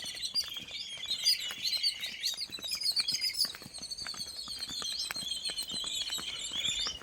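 Birds chirp and tweet continuously, several calls overlapping at moderate distance, with a soft patter of other sounds underneath.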